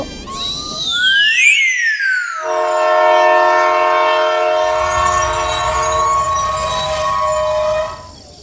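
Train sound effect: a loud horn blares with a falling pitch, then a long sustained horn tone rings out over rumbling wheels as the train pulls into a station, ending abruptly.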